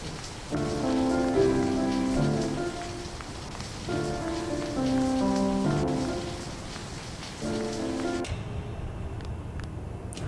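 Rain falls in a steady, even patter while tonal music plays over it in repeating phrases, and no voices are heard.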